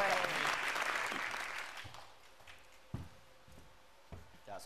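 Applause from an audience at a Lao game show taping, a loud burst of clapping that swells at first and then thins out into scattered claps and a few sharp individual hits toward the end.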